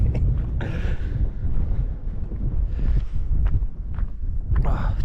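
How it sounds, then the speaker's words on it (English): Strong wind buffets the microphone on an exposed Peak District hilltop near a trig point, a continuous loud low roar with gusts rising and falling throughout, with no speech over it. "Whoa, it's windy up here."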